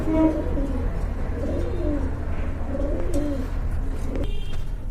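Pigeons coo in a steady, layered murmur, several birds near and overlapping throughout over a low background hum; the pair includes large Afshan grizzle pigeons in a pet bird shop setting.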